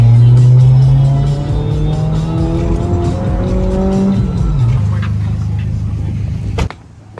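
A Nissan 240SX driven hard, its engine revving loud and close with a rising pitch and tires squealing, then easing off before a sharp knock near the end.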